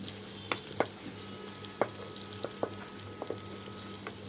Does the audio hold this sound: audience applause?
no